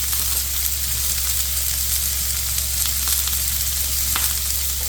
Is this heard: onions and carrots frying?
yes